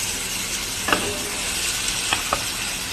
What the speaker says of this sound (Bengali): এদিকে চিংড়ি মাছ ভাজতে দিয়ে দিয়েছি।